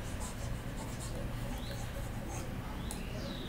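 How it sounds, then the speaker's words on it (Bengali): A board covered in math working is wiped clean during a lesson, giving continuous close rubbing and scratchy strokes with brief squeaks, while a voice murmurs faintly underneath. "এটা একটু মুছে নিই।"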